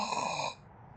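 A person's voice mimics a snore in one brief, raspy, nasal drone that cuts off after about half a second, close and fairly quiet.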